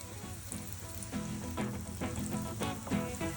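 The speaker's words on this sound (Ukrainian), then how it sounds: "А тепер ми будемо їх смажити." Syrnyky, Ukrainian cheese pancakes, sizzle in hot coconut oil in a pan, a soft steady crackle with small pops and clicks, fairly quiet and heard alone.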